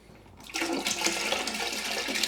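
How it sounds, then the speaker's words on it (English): Dirty water pours out of a Bissell TurboClean PowerBrush Pet carpet cleaner's tank, a sudden loud gushing splash that continues steadily and close by. "let me go ahead and show you guys how you can actually dump this out"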